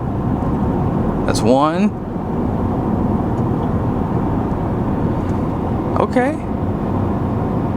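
A Ford F150 with the 5.0L Coyote V8 tows a maximum load up a 6% grade, its steady, loud engine and road drone running throughout while someone speaks briefly twice over it.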